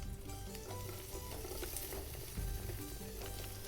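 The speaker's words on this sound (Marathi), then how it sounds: "कांदा पण चांगला परतून घ्यायचा." Onion frying with garlic and green chillies in a pan, a steady close sizzle over the whole stretch, with a few stirring scrapes and one heavier clatter from the utensil.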